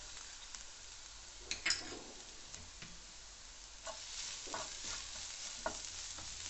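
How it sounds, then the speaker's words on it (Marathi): Minced garlic and ginger sauté in hot oil, a soft steady sizzle with scattered spatula scrapes and taps, close up and without talking. "लसूण छान परतत आला की यामध्ये आपण बारीक चिरलेलं आलं"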